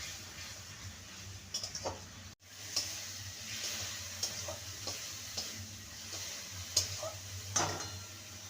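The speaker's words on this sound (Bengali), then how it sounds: "হাফ স্পুন ধনে গুঁড়ো আর হাফ স্পুন জিরে গুঁড়ো আর ঝাল লঙ্কার গুঁড়ো সামান্য ভালো করে সমস্ত কিছু কষিয়ে নেবো" Coriander, cumin and chilli powder being stir-fried in a pan, a faint, low sizzle broken by soft scraping stirs and a few light clinks, heard with no speech.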